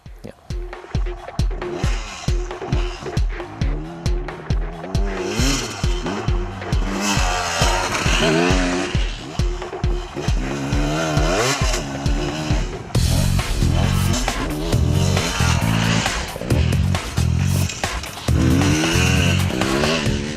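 A 2013 Beta 300 two-stroke motorcycle revs and rides nearby, its engine rising and falling in repeated rapid sweeps with brief pauses between gear changes, loud and continuous over about twenty seconds.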